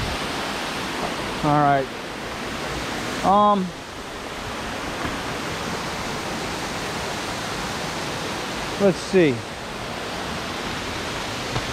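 Steady broadband rush of a waterfall at Quaker Falls Recreation Area near Edinburg, Pennsylvania, constant and fairly loud throughout, with brief spoken remarks and a few sharp bird-like chirps cutting through.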